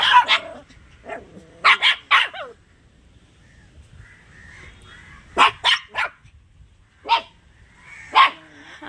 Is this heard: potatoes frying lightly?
no